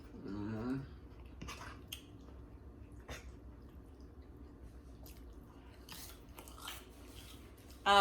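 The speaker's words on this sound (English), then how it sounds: "We're eating them with some Ritz crackers" Someone chews tuna with Ritz crackers up close, with soft, wet crunching and smacking bites coming in irregular bursts against a quiet background, plus a little talking.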